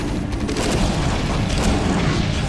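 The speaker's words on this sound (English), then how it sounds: "There are a bunch of explosions here" Dense rumbling explosions from the video game StarCraft: Impending Doom, a continuous loud, low booming barrage with no clear gaps and no voices.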